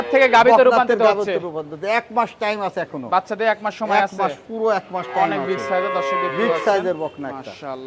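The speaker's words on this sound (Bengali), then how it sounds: "এটা কি জাতের একটা হলস্টাইন ফ্রিজিয়াম বকনা" A Holstein Friesian heifer moos with a drawn-out, resonant call at a dairy farm, heard under and between near, continuous talk from people standing close by.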